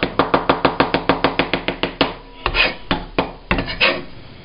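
A knife chops fresh leaves finely on a board for chicken tikka masala: a quick, even run of about a dozen crisp taps, then a few slower, heavier chops and scrapes, close up with no talking.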